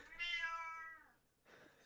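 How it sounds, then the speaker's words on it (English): A house cat lets out one drawn-out, rising-and-falling meow, close and clear, then a softer second vocal sound after a short pause. "No, that's just my cat."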